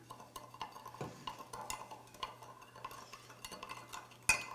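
A spoon stirring a Thai drunken-noodle sauce with oyster sauce and pepper in a bowl, with light, irregular scraping and clinking strokes close by, one sharper knock near the end, and no voices.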